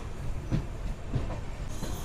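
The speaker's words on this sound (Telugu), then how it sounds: "మన ట్రైన్ వచ్చేసి కిషన్ గంజ్ నుంచి అయితే బయలుదేరిపోయింది." A passenger train running between Kishanganj and New Jalpaiguri gives a steady low rumble on the rails with two soft clicks of wheels over joints, heard from inside the carriage with no talking.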